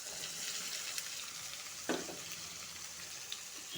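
Small chopped potato pieces drop into a hot pan with tomato and spices already frying. A sharp burst of sizzling sits over a steady background fry, with a few scrapes and clinks close by.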